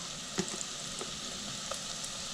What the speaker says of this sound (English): just 2 tablespoons, and just give a quick saute to it